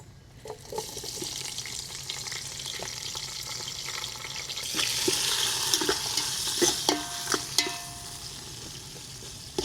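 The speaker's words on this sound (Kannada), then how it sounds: "ಸ್ವಲ್ಪ ಫ್ರೈ ಆಗಲಿ, ಇಲ್ಲಾಂದ್ರೆ ಹಸಿ ಸ್ಮೆಲ್ ಹಂಗೆ ಇರುತ್ತೆ. ಆಮೇಲೆ ಈರುಳ್ಳಿ ಹಾಕೊಳ್ಳೋಣ. ಈರುಳ್ಳಿ ಮತ್ತು ಮೆಣಸಿನ್ಕಾಯಿ ಹಾಕೊಳ್ಳೋಣ." Onion and green chilli frying in oil with whole spices for a Malnad-style fish curry, an even sizzle that swells louder midway, with scattered spoon clinks and stirring close by.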